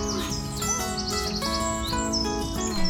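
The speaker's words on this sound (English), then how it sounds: "It's really nice to hear the birds." Birds chirp in the Keukenhof flower garden, with bright, short, repeated calls layered over a dense, steady background that stays fairly loud throughout.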